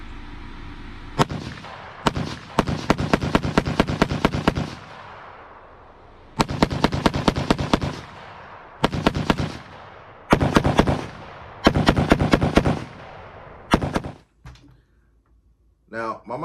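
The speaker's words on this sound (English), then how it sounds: "my Micro Draco is obnoxious, it's loud" A Micro Draco pistol fires in rapid bursts, loud and sharp, with clusters of cracking shots separated by short pauses, ringing out close by with some echo and no talking.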